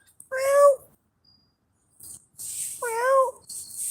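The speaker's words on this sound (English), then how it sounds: "There's a kitty cat." A cat meows twice, close by, with a short gap of near silence between the two drawn-out calls.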